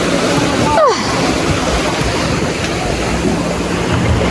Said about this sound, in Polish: To są dobre fale.